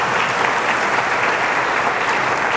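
Church congregation at a combined Christmas service clapping for God, a steady, dense wash of applause from many hands filling the room throughout without a break.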